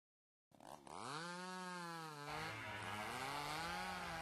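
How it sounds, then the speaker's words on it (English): Chainsaw in the horror video game Mad Father starting up after silence, revving with a rising whine and then running in a steady, loud, close buzzing drone. "That sounds like a chainsaw."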